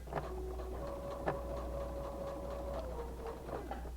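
A sewing machine runs a short small stitch, about length 1.8, while paper piecing a Christmas elf mug rug, humming steadily and close throughout with a faint rhythmic ticking and no talking.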